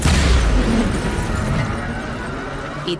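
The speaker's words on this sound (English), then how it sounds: "Mayor Nightingale perished in an explosion at City 31's Memorial Museum" Explosion at City 31's Memorial Museum in XCOM Chimera Squad, a loud close booming blast that rolls into a long rumbling decay over a few seconds.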